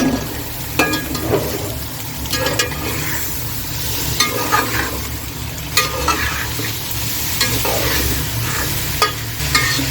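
Meat frying in a hot pan: steady crackling sizzle with occasional stirring scrapes, close and fairly loud, no talking.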